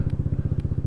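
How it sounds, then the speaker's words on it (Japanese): A Honda Zoomer X scooter's aftermarket Moriwaki exhaust burbles at idle, a close, low, rapid putter with an even pulsing rhythm. "これ今マフラーの音入ってますかね。"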